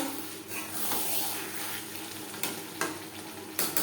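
Bhetki fish curry stirred in a frying pan, a steady soft sizzle with scraping strokes and a few sharper clinks near the end, close and moderately quiet with no talking.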